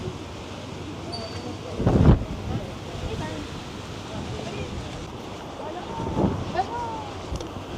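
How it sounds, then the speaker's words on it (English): Wind blowing outdoors at a hilltop fortress in Savona, Italy, a steady low rush with two stronger gusts buffeting the microphone, while people talk faintly in the background. "the wind picked up"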